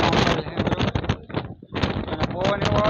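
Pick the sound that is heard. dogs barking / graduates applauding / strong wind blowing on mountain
strong wind blowing on mountain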